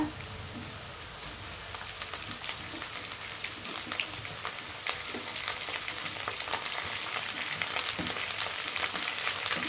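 Chopped boiled egg yolk pieces frying with onions in a pan, a steady, moderately quiet sizzle and crackle with occasional stirring scrapes, no voices.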